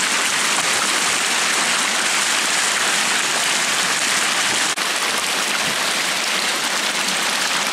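A water fountain on the Volga embankment in Samara splashes in a dense, constant hiss of falling spray, loud and close, broken only by one faint click.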